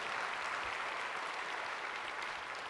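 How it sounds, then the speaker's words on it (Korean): A congregation applauds at a church service, a dense steady wash of many hands clapping together, fairly soft and continuous throughout with no voices standing out. "진짜 이분들 박수 한번 해주세요."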